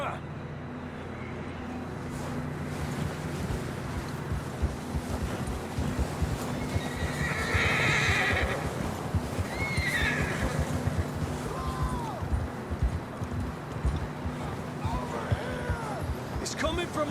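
Horses neighing and hooves clopping in the Red Dead Redemption 2 video game, repeated whinnies over a steady hoofbeat rhythm, with game characters talking throughout.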